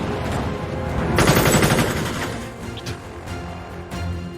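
Bursts of rapid gunfire in an action film scene, loud rattling volleys of shots that swell and then thin out into scattered reports.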